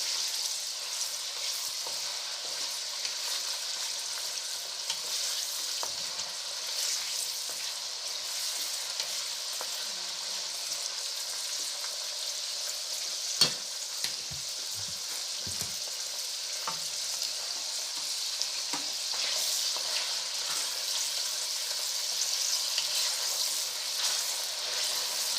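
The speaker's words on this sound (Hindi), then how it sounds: "हमने तकरीबन 300 ml के करीब हमने इसमें तेल डाल लिया था, जिसमें हम थोड़ी देर इसके गोश्त को भूनेंगे" Meat frying in about 300 ml of hot cooking oil for a kali mirch karahi, a steady dense sizzle running the whole time with occasional stirring clinks and crackles, close by, no talking.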